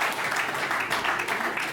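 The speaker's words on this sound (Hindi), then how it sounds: "ये एक बार सदन ताली बजा के मुझे आशीर्वाद दे" Listeners in a hall at a comedic storytelling performance break into a short round of applause, a thick, continuous clatter of many hands at fairly close range.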